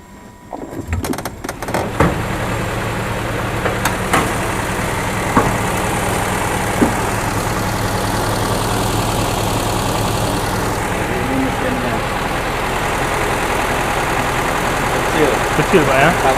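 A small four-cylinder car engine idles steadily and close, a continuous low rumble with a few clicks and knocks near the start, while people talk over it.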